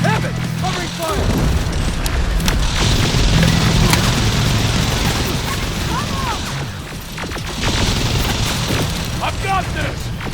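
Heavy gunfire and booming blasts in the Terminator Resistance: Annihilation Line video game, sustained and loud across the whole stretch with shouting voices mixed into the firefight.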